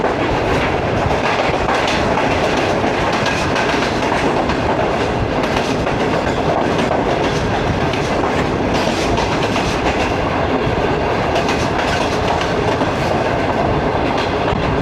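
Pakistani 5UP Greenline passenger train from Rohri to Lahore running steadily, with a continuous loud rumble and rhythmic clickety-clack of wheels on rail throughout, heard from inside an economy class coach.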